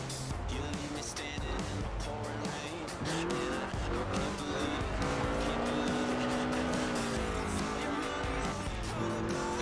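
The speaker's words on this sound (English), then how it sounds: "This was a car designed explicitly for rallying, with a powerful fuel-injected 1790cc Cosworth BDE engine." A Ford Escort RS 1800 rally car with a fuel-injected 1790cc Cosworth BDE engine, driven in Forza Horizon 4, roars loudly with shifting engine pitch and screeching tires throughout.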